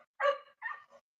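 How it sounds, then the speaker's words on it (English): A dog barks at its ball, giving three short, sharp barks in quick succession, the first loudest and the last softer and briefer, fairly close with no talking over them. "He's barking at his ball."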